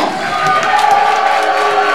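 A wrestling crowd cheers for Scott Lost at a singles match, a steady roar of fans with whoops that holds for the whole two seconds.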